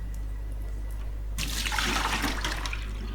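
Water poured to flush the clogged drain of a leaking LG refrigerator, a rushing, splashing flow that starts abruptly partway through and continues over a low steady hum.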